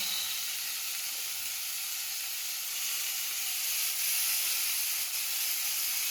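Chopped tomatoes hit hot oil in a pan while kachori filling is being prepared, giving an unbroken, loud, even sizzling hiss that holds steady throughout, close by and without any voices.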